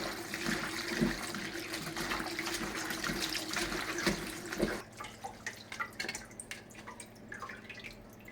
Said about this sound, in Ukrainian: І промиваємо гриби.